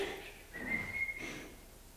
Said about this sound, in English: Like maybe do a little blow with a little bit of whistle in it.